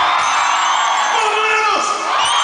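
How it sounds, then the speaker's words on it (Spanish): A large audience at a live comedy show in a town square roars a loud, sustained group war cry, dense shouting and whooping that fills the whole stretch with a brief dip near the end. "Grito de guerra cuando yo diga esto."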